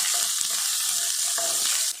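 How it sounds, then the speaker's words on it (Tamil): Chopped onion sizzles steadily as it sautés in hot oil with mustard seeds and cumin, a close, continuous frying hiss with occasional stirring and no talk. "பெரிய வெங்காயத்தை சேர்த்துட்டு நல்லா வதக்கிடலாம்."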